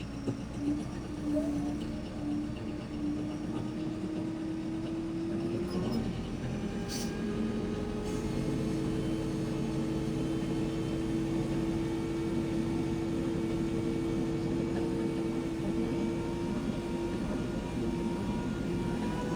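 A tractor drives out of a shed, its engine a steady loud drone throughout with a rising tone change partway through and no talk.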